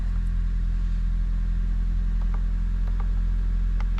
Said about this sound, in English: Seems to be idling just fine at first startup.